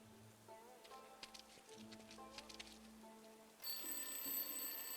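An alarm clock in a video game rings from inside a rubbish bin, a steady repeating electronic bell over soft game music, then a sharper, brighter burst near the end.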